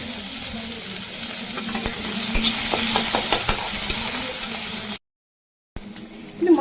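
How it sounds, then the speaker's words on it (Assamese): Green chili, ginger and onion frying in a pan for a simple curry, a steady close sizzle with a few scraping stirs partway through, then a brief cut before the hiss resumes. "এতিয়া সোনকালে ভাজি ল'ব লাগিব"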